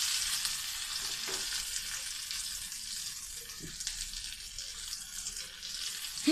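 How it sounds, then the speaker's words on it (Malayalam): Cutlets fry in a pan with a steady, close hiss and crackle of hot oil, continuous and fairly quiet, with an occasional soft clink or stir and no voices. "നമ്മുടെ കട്ട്ലേറ്റൊക്കെ നന്നായിട്ട് മുരിഞ്ഞ് റെഡിയായി വന്നിട്ടുണ്ട്."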